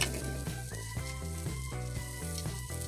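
Onions sizzle and fry in a pan alongside fish, tomato and chili, a steady close hiss that runs continuously with no talking.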